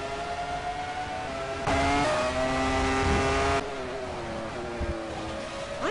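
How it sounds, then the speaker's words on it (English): Race car engine in a Grand Prix of Europe racing video game, a sustained high-pitched whine with shifting harmonic tones that swells louder midway as another car passes close, then settles back. "Why does Tristan Bayless's car sound different"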